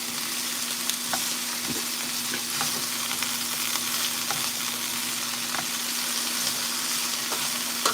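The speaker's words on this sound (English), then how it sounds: "We got the 4 a.m. sizzle ASMR." Steady, continuous sizzling of food frying in a pan, with occasional small pops and crackles over a constant hiss; no voices.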